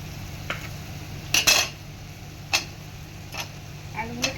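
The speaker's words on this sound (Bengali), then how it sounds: "এটা আলুগুলো দিয়ে কষানো হচ্ছে" Potatoes are stir-fried in a pan for a lentil-fritter curry, a utensil scraping and clinking against the metal in scattered short strokes over a faint low background hum.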